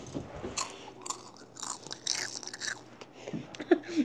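A child crunches and chews a crunchy snack close to the microphone, with irregular crisp bites and munching spread across a few seconds.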